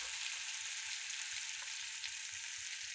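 Ginger and garlic frying in hot oil, a dense, even hiss of sizzling that holds steady and loud throughout with a faint low rumble beneath and no voices.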